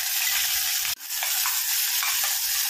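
Dense crackling and spluttering of mustard seeds in hot oil for prawn gravy, continuous and close, with a brief louder pop near the start; no talking.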